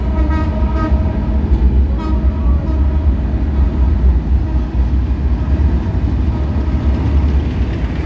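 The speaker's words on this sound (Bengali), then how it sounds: "এই ট্রেন যাচ্ছে আমাদের।" A train rolls past close by at the opening of the first train service in Narail, a loud continuous rumble with clattering wheels and a brief horn-like tone near the start.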